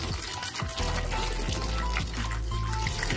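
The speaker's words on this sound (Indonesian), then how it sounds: "Saat saya menarik ujung spoidnya, set, airnya langsung mengalir ya teman-teman." Water runs steadily from a homemade tap made from a used syringe, a close, continuous splashing trickle with no speech.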